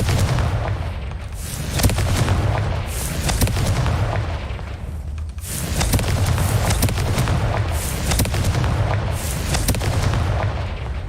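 A fire-blast spell explodes in the Hogwarts Legacy video game, giving booming, artillery-like blasts that rise and swell in several loud bursts over a rumbling bed.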